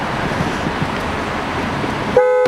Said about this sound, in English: The horn's probably going to go off.